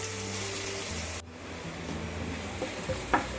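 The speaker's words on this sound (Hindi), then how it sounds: "ये सॉफ्ट हो जाए प्याज, उसका कच्चापन निकल जाए" Onions softening as they fry in a pan for Marwari dhaba-style sev tamatar sabzi, giving a steady close sizzle with soft stirring scrapes and a few light clinks, no talk.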